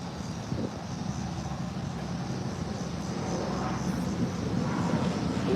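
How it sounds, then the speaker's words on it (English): A jet plane passes overhead while a loud semi truck drives just ahead on the road, giving a steady rumbling roar that swells slightly toward the end. "There's a jet flying over me right now."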